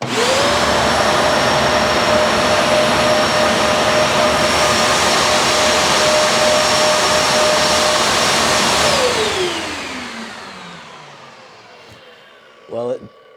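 An Oneida Supercell dust collector starts up with a loud, steady whine and rushing airflow. It holds constant for several seconds, then winds down with a falling pitch as it shuts off, followed by a brief clunk near the end.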